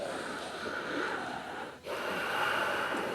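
Deep, slow breathing during a held yoga pose: a long audible inhale that briefly pauses, then a steady breathy exhale, close and soft with no talk.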